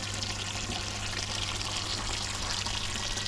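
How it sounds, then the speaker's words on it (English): Water pouring into a cleaned-out garden pond, a steady, soft rushing and trickling stream heard close and continuous, with no talking. "so the pond's filling up"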